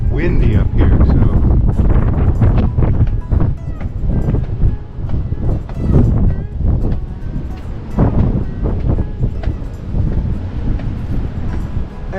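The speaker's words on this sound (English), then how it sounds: "And it's windy up here," Strong, steady wind roars across the open top deck of the Royal Princess cruise ship, loud and continuous with gusty buffeting on the microphone throughout.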